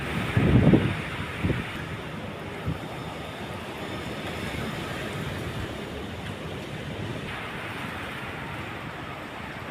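Stormy wind during heavy rain in Vientiane, heard from inside a building: a steady broad rushing roar with a few louder gusts near the start, close and continuous, with no talking.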